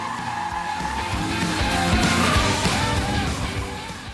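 A modified Sprite race car fitted with a Honda motor and a Subaru WRX rear end drives hard, tires skidding and engine droning in a steady, close, loud run.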